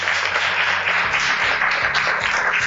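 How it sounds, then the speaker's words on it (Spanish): Applause from an audience at a Spanish-language breakfast talk on entrepreneurship in the audiovisual industry, loud and sustained dense clapping close by throughout. "yo creo que se merece un aplauso enorme"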